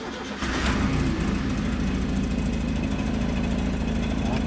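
A Fiat Uno Mille electronic car engine cranks briefly and catches after an oil and filter change, settling into a loud, steady close-up idle for several seconds with no talking.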